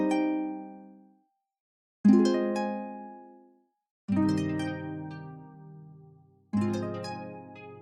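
Dry harp-like chord sample built in FL Studio with all effects bypassed, four plucked chords ringing out one after another with long natural decays and short pauses between.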